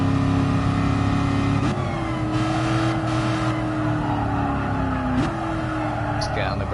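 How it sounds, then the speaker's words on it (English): A Shelby Cobra 427 engine roars loudly and continuously during a classic Le Mans time rally, with the pitch climbing across gear changes as someone talks over the drone. "Sounds like you're having fun driving this car."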